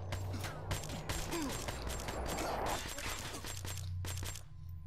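Rapid automatic gunfire from Call of Duty Black Ops III crackles in dense bursts, loud and close, with brief gaps between volleys before it cuts off near the end.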